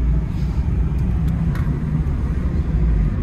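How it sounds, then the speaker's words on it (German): A Peugeot car drives on a winding rally-style road near Skikda, Algeria, heard from inside as a loud, steady engine and road rumble with faint ticks, no talk. "Wir fahren mal ein bisschen Auto mit dem Peugeot."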